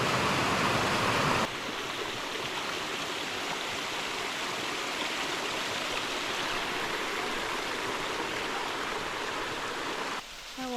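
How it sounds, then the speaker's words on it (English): A waterfall and rushing creek on the Buffalo River Trail in Arkansas during a historic flood, heard as a steady, broad roar of flowing water that continues unbroken, with a slight shift after the opening second and no talking. "The waterfall is coming from all the way up there."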